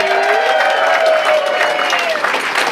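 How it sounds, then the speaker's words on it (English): A theater audience applauds featured magicians at a magic venue, with steady sustained clapping and some crowd noise, loud and continuous throughout. "let's have a nice big round of applause for your featured entertainers"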